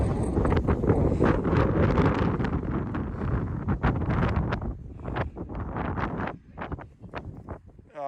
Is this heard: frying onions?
no